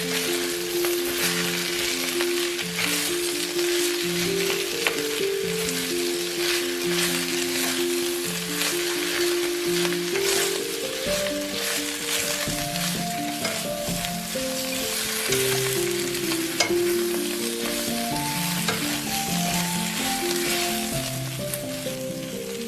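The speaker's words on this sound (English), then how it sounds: "Continue stir-frying until the mushrooms are tender and all the ingredients are well combined." Pork belly, bamboo shoots and sliced shiitake mushrooms stir-frying in a hot pan, a steady close sizzle with crackling spatter and occasional scraping stirs, continuous with no talk.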